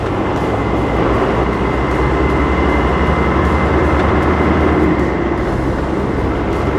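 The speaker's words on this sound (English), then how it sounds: "look how much power it has. Like goes up the hills effortlessly because the turbo works so well." A 1992 Land Rover Defender 90 with a turbo diesel engine climbs uphill, its engine a steady, loud, close drone with continuous road and wind rumble throughout and no talking.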